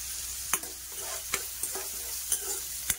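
Chopped onions frying softly in a pan for a chana dal, drumstick and brinjal curry, with a faint steady sizzle and a few sharp scrapes of a spoon stirring every second or so.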